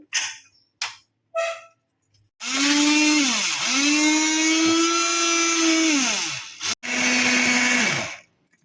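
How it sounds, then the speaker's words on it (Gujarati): Pressure-cooked dal is churned smooth in a motorized blender: a few short clicks come first, then a loud, steady whine of about four seconds and a brief second run. "હવે આપણે દાળને જીરી નાખશું"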